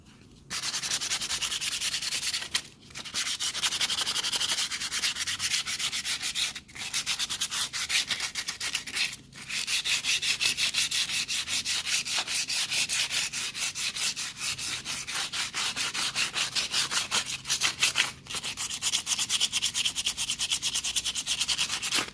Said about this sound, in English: Now the tire's all been sanded.